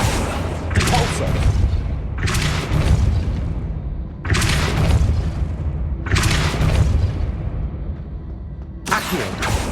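Depulso spell cast repeatedly in Hogwarts Legacy, producing about five heavy booming blasts spaced roughly two seconds apart, each a loud, sharp burst that decays into a rumbling tail.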